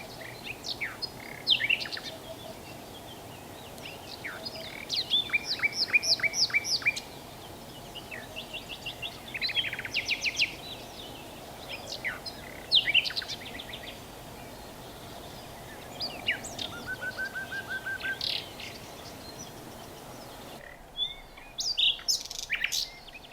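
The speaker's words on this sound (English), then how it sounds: "So I'll film a little bit more of that nightingale and I'll put it over for you here." A nightingale sings outdoors in Menorca, delivering varied phrases of rapid trills, whistles and chirps at moderate distance over a steady background hum, with short gaps between song bursts.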